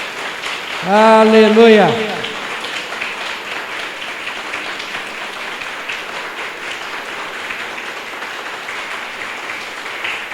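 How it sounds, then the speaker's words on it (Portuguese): A church congregation applauds steadily in a dense, rain-like wash of clapping that continues for several seconds, while a voice sings out a drawn-out sung phrase near the start. "Você pode dar uma salva de palmas ao Senhor?"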